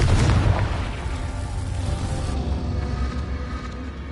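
A Confringo fire spell in the Hogwarts Legacy video game explodes with a loud boom up front, then a sustained roaring rumble that slowly fades away.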